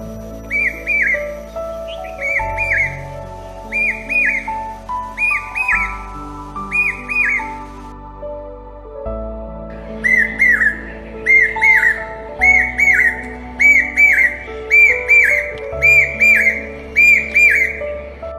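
An Asian koel calls again and again, with clear rising whistled notes at a steady rhythm over soft sustained music.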